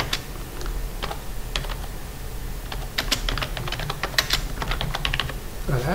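Keystrokes on a computer keyboard while entering a page footer in a Word document, irregular clusters of sharp near clicks over a low steady hum, with no talking.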